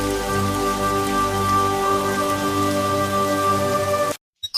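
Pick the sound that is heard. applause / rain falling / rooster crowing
rain falling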